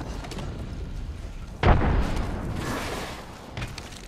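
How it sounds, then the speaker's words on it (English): A grenade explodes in Apex Legends with one sudden deep boom, followed by a rumbling tail that fades over about two seconds against steady background game noise. "Tossing a grenade!"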